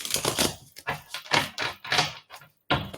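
A deck of tarot cards is shuffled by hand, close crisp riffling bursts in a quick uneven rhythm with short pauses between passes, no talking.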